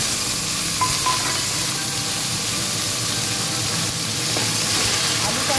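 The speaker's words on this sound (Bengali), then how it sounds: "আলুটা আমি একটু লাল করে ভেজে নেব" Cut potatoes fry in hot oil for a Bengali banana-flower ghonto, a loud, dense, close sizzle that runs evenly without a break.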